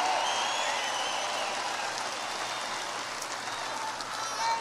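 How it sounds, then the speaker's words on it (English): Crowd applause and cheering at a Donald Trump rally in Loveland, a steady broad wash of many hands clapping that holds for the whole stretch, moderately loud and without talk over it. "And another big round of applause for them."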